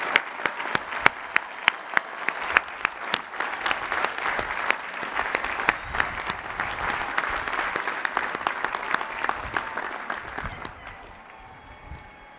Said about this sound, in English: Let's give all our graduates a hearty round of applause.